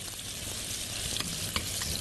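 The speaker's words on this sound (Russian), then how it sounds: "Обжариваем его, как обычно." Fatty pork sizzles steadily in a hot pan, a dense crackling hiss with a few louder pops and scraping stirs.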